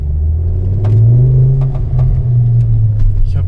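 A Ford Focus ST MK2 accelerating hard, with a loud, steady low engine rumble and a few faint, brief clicks or knocks over the top.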